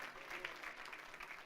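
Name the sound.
congregation applauding for the King of Glory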